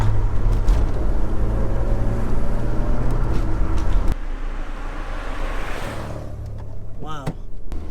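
A 1989 Volvo 480 drives along, its engine and road noise forming a steady loud drone heard from inside the car, easing slightly midway.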